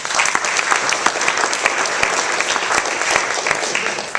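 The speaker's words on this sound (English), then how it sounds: "Let's give them a round of applause." Applause from the audience at a monthly business meeting, close and lively clapping with sharp individual claps standing out from the crowd throughout.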